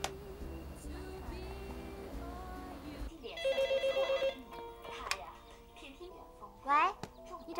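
A telephone rings indoors in a home with a short burst of evenly pulsed electronic rings, heard over soft background music.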